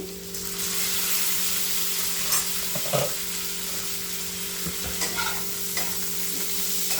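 Onions for a chicken curry fry and are stirred in a pan, a dense continuous sizzle with occasional scrapes and knocks of the spoon over a steady low hum, close and clear with no voices.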